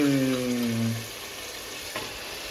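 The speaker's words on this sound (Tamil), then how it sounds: "நம்ம இப்போ இதில் மட்டனை போட்டுற வேண்டியதுதான் கழுவி வச்சிருக்கிற மட்டனை போட்டுடணும்" Mutton drops into a hot pan and sizzles and fries, loudest at first as it hits the oil, then settling into a quieter steady crackle, with a brief stir near the end.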